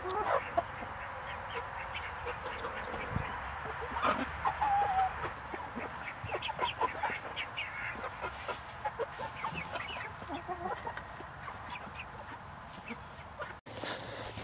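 Heritage breed chickens and ducklings cluck and peep steadily outdoors in a grassy yard, a busy overlapping chorus of small calls running continuously at moderate loudness.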